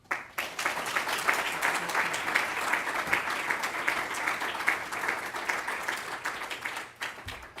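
An audience breaks into sustained, dense applause to welcome speaker Al Roth, the clapping holding steady and loud for about seven seconds before tapering off abruptly.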